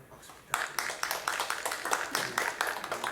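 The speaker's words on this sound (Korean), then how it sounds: "우리 박수 부탁드리겠습니다." A church congregation claps to welcome members, a short burst of fairly distinct, rhythmic hand claps beginning abruptly after a brief quiet moment.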